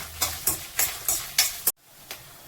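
Chopped onions fry in hot oil with curry leaves, stirred in six quick, evenly spaced strokes that each flare with sizzle, then a brief hush and one last stir.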